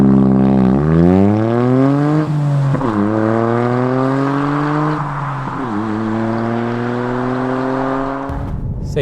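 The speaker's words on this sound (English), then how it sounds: "let's go out on the road and see what it sounds like on the move" Toyota GR Yaris fitted with an Aulitzky valved OPF-back exhaust, driving on a public road with the valve closed in normal mode: a loud, steady engine note climbs through the revs, dips at two gear changes, then pulls again before easing off.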